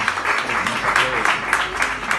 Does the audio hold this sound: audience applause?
yes